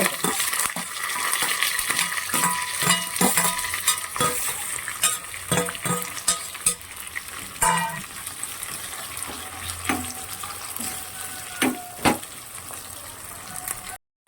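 Onions, green chillies and curry leaves fry in hot oil for a ridge gourd and raw prawn curry. A continuous close sizzle runs throughout, broken by sharp metallic clinks and taps of a spoon against the pan.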